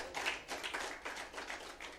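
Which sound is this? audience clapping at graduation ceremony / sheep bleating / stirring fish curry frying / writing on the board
audience clapping at graduation ceremony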